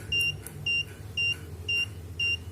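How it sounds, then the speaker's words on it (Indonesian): A premium injector scanner and polarity tester for workshop fuel-injection servicing sounds an alarm in five evenly spaced, clear electronic beeps over a low background hum. "Suara alarm berubah bunyi."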